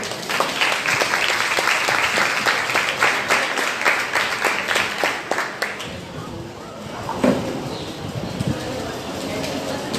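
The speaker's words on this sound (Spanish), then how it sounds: "Un fuerte aplauso" An audience gives strong applause after a plaque is presented at an event, dense clapping for about six seconds before it fades into room chatter and a few scattered claps.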